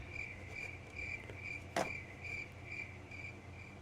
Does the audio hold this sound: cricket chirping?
yes